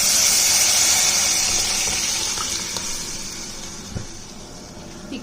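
Liquid pours into a hot pan while sambar is cooking, giving a loud rushing splash at first that fades into a softer hiss and sizzle, with a few small clinks.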